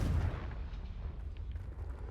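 The Confringo blasting spell goes off in the Hogwarts Legacy video game as a single deep, heavy boom that fades into a low rumbling tail, loud and close with no talk over it.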